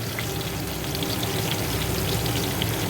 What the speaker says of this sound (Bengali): আস্তে করে খুলতি নাড়িয়ে কাঁঠালটা ভেজে নিচ্ছি